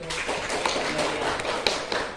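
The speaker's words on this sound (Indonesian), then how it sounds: "Kasih tepuk tangan untuk" A small group claps in a classroom during a teacher training session, a loose, uneven patter of hand claps with a few sharper taps and thumps standing out, fairly close and without talk.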